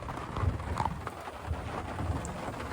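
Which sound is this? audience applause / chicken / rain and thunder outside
rain and thunder outside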